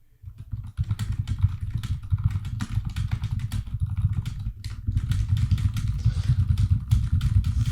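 Fast, steady clicking of computer keyboard keys, close and continuous, over a loud low engine-like rumble that fills the background throughout.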